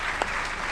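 Steady applause from a conference audience after a geology lecture, a dense even wash of clapping that fills the whole moment at moderate loudness.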